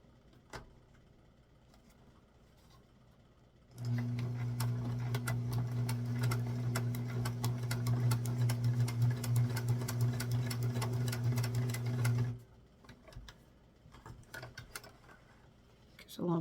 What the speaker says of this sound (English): So I'm going to run this through the machine now.